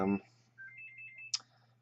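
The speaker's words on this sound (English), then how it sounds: "Phone ringing again. That's really annoying." A telephone rings indoors as a short electronic warble of repeated tones, with a brief sharper burst near the end, heard alone after a quick bit of speech at the start and over a low steady hum.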